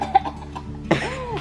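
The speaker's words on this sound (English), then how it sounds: "Pwede na ako mag-cough out." A single sharp cough bursts out near the end, close and fairly loud, after a few soft breathy sounds.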